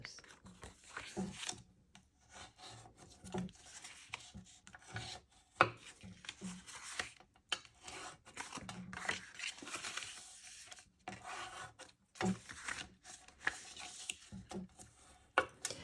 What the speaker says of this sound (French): nous allons marquer nos plis avec notre plioir en os